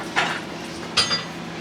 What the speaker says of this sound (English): Put the pan down.